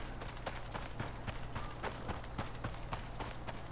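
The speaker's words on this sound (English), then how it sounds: "You're a horse." Horse hooves in the survival game Icarus, a quick, steady run of close clip-clop hoofbeats over constant background noise, with no talk.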